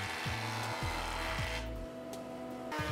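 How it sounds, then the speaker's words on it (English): Wooden boards are face-jointed on a jointer: a continuous close machine hum with rasping cutter noise that rises and shifts as the board feeds across the knives. "so some face jointing was definitely in order."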